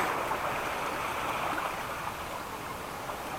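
Ocean waves make a steady broadband wash of surf that holds at an even level throughout and has no distinct breaks.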